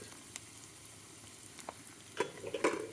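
Tempering spices crackle and sizzle in hot oil, a quiet hiss broken by a few sharp pops that grow busier toward the end, with no voices.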